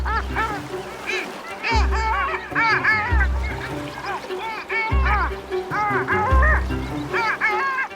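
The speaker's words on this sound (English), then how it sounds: "he'll give the distinctive long-tailed duck call, triggering a chain reaction of excitement amongst the flock." A displaying flock of long-tailed ducks calls on the water in Scotland, loud nasal yodelling honks in repeated bursts from several birds, close and overlapping with short pauses between them.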